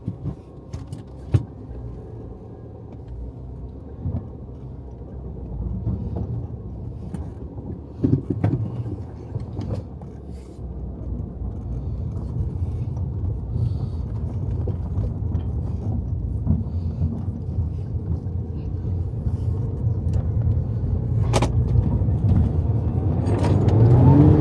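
Inside a Mini Cooper S on the move, a low engine and road rumble builds gradually as it accelerates, with a few faint clicks and knocks from the cabin.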